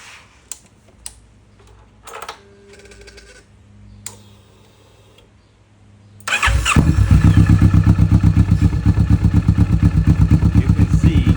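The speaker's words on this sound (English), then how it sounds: "Just hand tighten, and then start the engine, let it run for a little bit." A Kawasaki Vulcan S motorcycle sits quietly with a few scattered clicks and rattles, then its engine fires up and runs with a loud, close, rapid pulsing throb.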